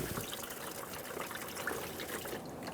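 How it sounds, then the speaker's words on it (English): Coolant drains from an opened water pump on a 1994-1997 Honda Accord 2.2L four-cylinder, a faint, steady trickling and splashing that runs continuously with no talk. "open up that water pump and allow it to drain"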